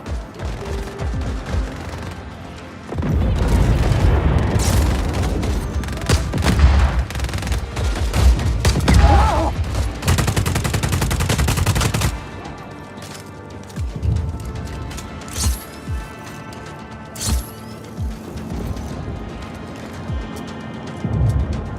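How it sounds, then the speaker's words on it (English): Gunfire in the action game Just Cause 4 erupts as a loud, sustained burst of rapid automatic shots and booms for several seconds, then thins into scattered shots and lighter game sounds. "Trying to pin him down! Opening fire!"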